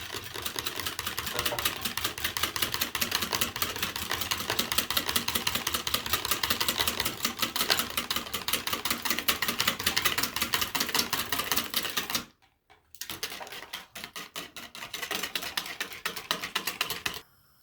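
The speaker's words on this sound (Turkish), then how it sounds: "bir adet yumurta sarım ve bir adet sıkılmış limonumu çırpıcıyla karıştırıyorum" A whisk beats yogurt, egg yolk and lemon juice for a soup dressing, a fast, steady, close rattle of wire against the bowl that stops briefly and then resumes.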